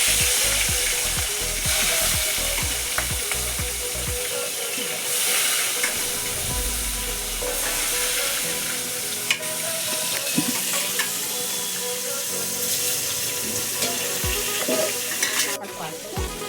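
Rui fish pieces sizzle and fry in hot oil in a wok, a loud continuous crackling hiss with occasional stirring scrapes and spatters, no voices over it.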